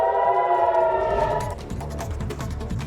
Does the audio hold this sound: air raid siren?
yes